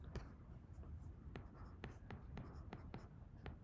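A pen scratches across paper while working a least-squares calculation by hand. The short strokes are quiet and close, with faint soft speech underneath.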